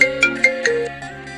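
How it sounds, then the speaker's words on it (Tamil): A mobile phone ringtone plays loud and close, a short bright melodic phrase of several quick notes, with no voices. "சும்மா ஃபோன் அடிச்சுட்டே இருக்காங்க எங்கள் அம்மா."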